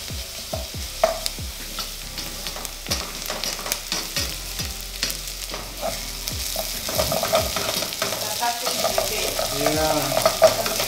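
Minced garlic and katikati fry in a pan with a constant sizzle, broken by repeated sharp clicks and scrapes of a utensil against the pan that thicken toward the end, with no voices.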